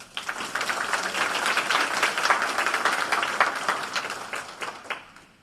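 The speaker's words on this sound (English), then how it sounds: "You all give them an applause" An audience at a faculty and staff town hall applauds, a full steady roll of clapping from many hands that swells and then tapers off.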